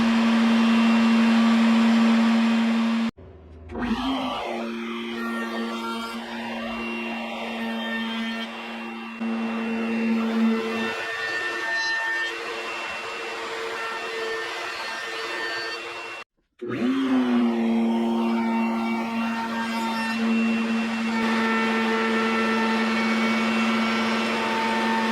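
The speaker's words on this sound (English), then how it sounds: "I'll round over all the outside edges with an 1/8 inch round over bit" A router with a 1/8 inch round-over bit shapes the outer edges of an Arts & Crafts clock, making a loud, steady high whine that cuts out twice briefly, each time spinning back up again.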